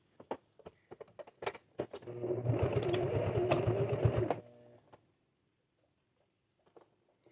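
A sewing machine top-stitching and quilting a fabric pot holder runs in one close, steady burst of about two seconds, with scattered clicks and taps of handling the fabric before and after, and no talking.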